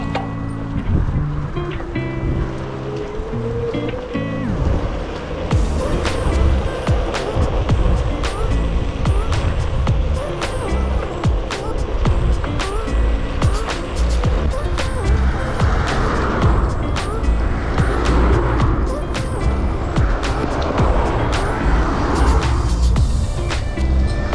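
Busy road traffic heard while riding a Hitway BK19 road-legal electric road bike, with a steady loud rush of passing vehicles and wind, rising engine passes and intermittent clicks throughout.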